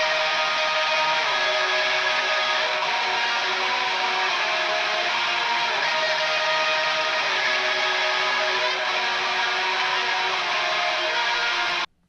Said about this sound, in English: So it sounds like the mic is further away from where the guitar is being recorded.